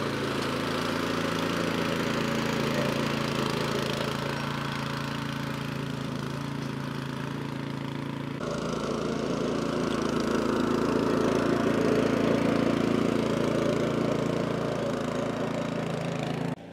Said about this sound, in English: Next step is to get the scarify out and run the scarify over it.